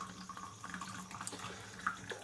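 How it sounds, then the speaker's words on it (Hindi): Hot water pours from an opened flask into a cup, a soft steady trickling and splashing stream that runs close and fairly faint throughout, with no talking. "तो मैं पहले फ्लास्क ओपन करके ये पानी को कप में डालते हैं।"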